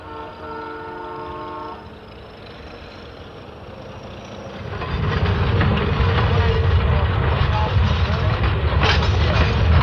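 Railway cars of train 406, bound for the Maritimes, being hauled through a 1958 rail yard: a quiet rumble with a faint tonal horn-like hum first, then a louder, steady rolling roar and rattle of moving cars from about five seconds on.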